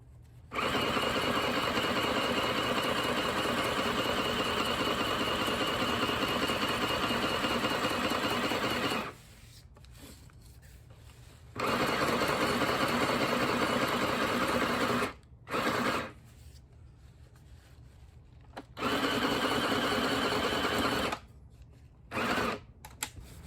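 A sewing machine stitches fabric for a homemade camping fly, its steady mechanical whir running in long bursts with short pauses between runs, close and fairly loud with no talking.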